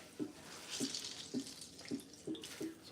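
Water runs from a kitchen tap into a sink in a steady faint stream, with a rhythmic pulsing splash about every half second.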